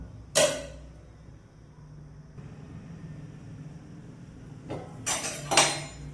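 Metal clanks as a lid is set on a pot of fish curry, a sharp clatter early on, then a quiet stretch before a few more clinks and rattles.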